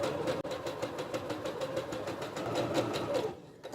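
A sewing machine stitches a straight line at a steady pace, its needle producing an even, rapid rhythmic clatter that runs continuously and then stops near the end, fairly quiet and alone.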